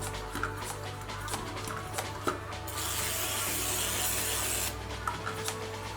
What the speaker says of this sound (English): I literally give it another quick shake just to make sure that it's all coated in that oil